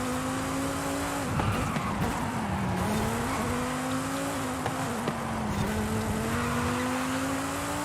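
A 2009 Corvette ZR1 sustains a steady, loud engine drone through a wide turn, its pitch dipping and rising with throttle changes, with faint tire noise underneath and a few brief thumps.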